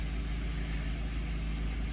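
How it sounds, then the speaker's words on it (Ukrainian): A Skoda Octavia A4 Tour 1.6 engine idles steadily after an oil and filter change, a constant low rumble with an even mechanical hum, close and unchanging. "Нехай двигун попрацює."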